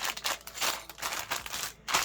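A small plastic bag inside a Lego Speed Champions McLaren Solus GT set box crinkles and rustles in quick, close bursts, alternating with brief pauses.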